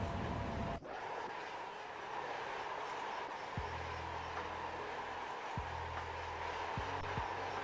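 A long train in the SimRail railway simulator rolls steadily past with a continuous rumble, periodic wheel clunks over rail joints marking a slow rhythm, fairly close and loud with no talking.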